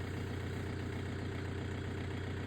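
A tractor engine idles steadily on a blueberry farm, a low, even rumble that continues unbroken and fairly faint throughout, with no voices over it.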